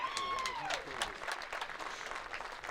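A crowd erupting in applause and cheers at an ASA pro archery shootdown, sustained clapping with a whistle near the start, mixed with crowd voices.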